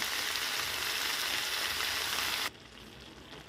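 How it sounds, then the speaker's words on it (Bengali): Vegetables sizzle loudly in a pan as spinach goes in for a Bengali prawn-and-spinach ghonto; the steady frying hiss cuts off abruptly near the end, leaving a quieter, duller sizzle. "এবার আমি এর মধ্যে শাকটা দিয়ে দেবো, পালং শাকটা দিয়ে দেবো"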